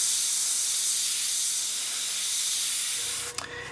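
A Gaahleri Ace airbrush sprays in a steady, loud, close hiss that runs unbroken for over three seconds, then cuts off abruptly into a few small clicks of the trigger.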